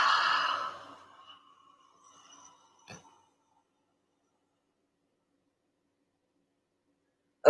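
A single deep open-mouthed exhale during a standing breathing exercise in a bikram yoga class, loud and close for about a second, then fading into near silence with a faint click.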